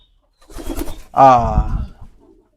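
Pigeons coming inside their loft on a windy day, with a couple of close, clear throaty coos rising from near silence, the second one louder and longer.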